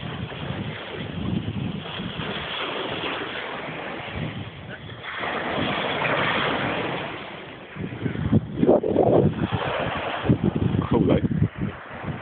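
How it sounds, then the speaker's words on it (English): Ocean waves wash and rumble close by, a steady broadband roar with surges toward the end, mixed with wind buffeting the microphone and occasional voices. "Waves."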